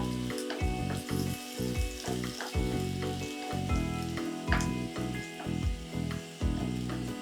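Garlic and curry-leaf tempering sizzles in hot oil for a doddapatre leaf chutney, a steady close crackle with rhythmic stirring or scraping pulses throughout, no voices.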